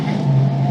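A race car engine humming loudly and close at a steady pitch as the driver works heat into the tires, a brief sustained drone with no talking.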